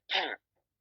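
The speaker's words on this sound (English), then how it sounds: "I keep coughing." A single short, throaty cough or throat clearing, close and fairly loud, followed by silence.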